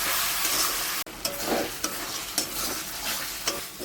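Spice masala frying in a pan while being stirred, a steady close sizzle broken by sharp scraping strokes of a spoon against the metal at irregular intervals, with a sudden clunk early on.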